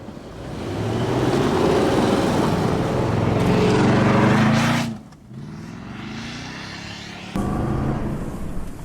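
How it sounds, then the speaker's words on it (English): A 2015 Nissan Titan with a 5.6-liter V8 revs loudly and close in snowy conditions, a sustained rising engine roar that drops off sharply, then resumes at a lower steady drone. "And I just love that V8. It snarls, it's quick to accelerate."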